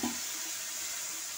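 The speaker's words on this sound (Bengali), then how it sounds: "আমি আদা সিদ্ধ করা ডালটা রেখে দিয়েছিলাম সেদ্ধ করে, আমি এইটা দিয়ে দিচ্ছি" Boiled lentil dal cooked with ginger pours into a pan of cooked leafy greens (note shaak), giving a brief liquid splash and a soft sizzling wash, close and fairly quiet.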